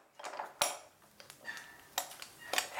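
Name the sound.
assembling a moka coffee pot with ground coffee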